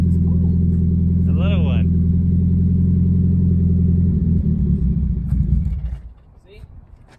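Mazda Miata fitted with a new aftermarket exhaust, revved close by: a loud, steady deep engine drone that holds for several seconds and then drops away, with people talking over and after it.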